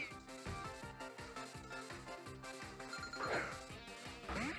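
A mobile phone ringtone chimes in a steady repeating melodic pattern, fairly faint and set against other background sounds.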